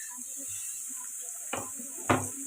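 Pieces of raw banana and chopped tomato fry in a pan with a steady soft sizzle, broken by two brief scraping clatters of stirring.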